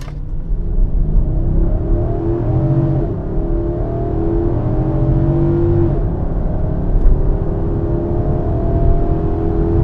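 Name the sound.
V8 SUV accelerating from launch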